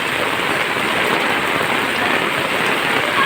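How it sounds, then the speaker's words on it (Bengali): A heavy village downpour roars steadily and loudly, a dense unbroken hiss of rain pounding surfaces with no pauses. "কি অবস্থা দেখো বৃষ্টির"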